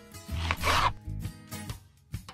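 A knife slices through fresh pineapple in a small van kitchen, giving several close, crisp cutting strokes in an uneven rhythm.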